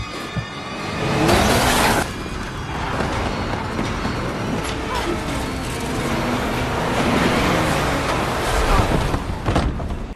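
A car roars past close by in the dark, its engine swelling loudly before trailing off amid rumbling road noise, with no voices.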